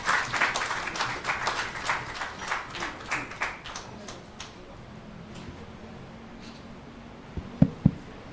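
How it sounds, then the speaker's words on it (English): Audience applause rings out for about four seconds, then tapers into quiet room noise, with a couple of sharp knocks near the end. "please give a warm round of applause for our first session panelists"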